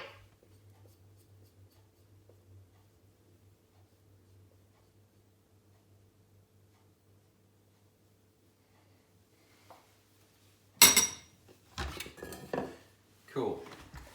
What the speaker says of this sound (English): scrape down the sides, get it all down into the mixture at the bottom